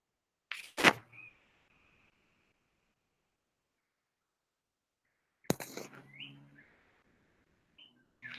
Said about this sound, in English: that's my bird inside wolf whistling